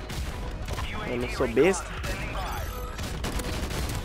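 Grenades going off and rapid gunfire in a chaotic shooter video game match, bursts of shots and a louder blast mid-clip under someone talking.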